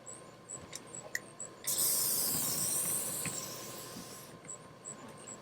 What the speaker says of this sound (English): So you just simply spray it on, and then you wipe the excess off.